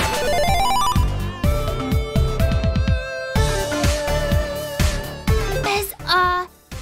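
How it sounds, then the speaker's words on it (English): A cell phone rings in the video game River City Girls, a bright electronic ringtone sitting over the game's steady music, loud and repeating for several seconds before trailing off at the end. "Check your phone, Kyoko"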